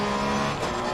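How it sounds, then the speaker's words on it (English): A race car engine in the video game Assetto Corsa Competizione roaring steadily at high revs, loud and close, with a strong tonal drone. "Oh, listen to that engine."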